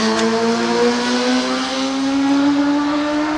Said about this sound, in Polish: pan motorem jechał